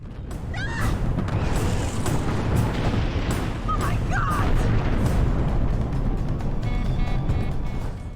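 Space battle from Battlestar Galactica, with rumbling explosions and bursts of weapons fire over a steady roar of engines, loud and continuous, with brief effects cutting through.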